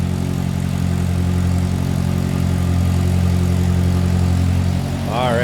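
A 1946 Crosley two-door sedan with a single-carb engine idling steadily after a cold start, a close, even low rumble with a constant hum, a brief voice starting at the end.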